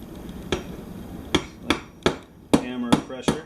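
A hammer taps a freshly cleaned contact on a Hampton Bay low voltage landscape light during a repair, landing about seven sharp, close metallic knocks at uneven intervals with a couple in quick succession.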